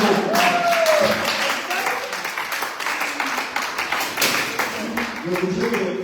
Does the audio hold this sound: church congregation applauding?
yes